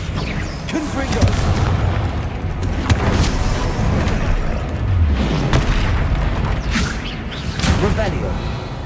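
Fiery Confringo spell blasts from a modded Hogwarts Legacy playthrough go off as repeated loud booms and whooshing bursts within dense, continuous game noise.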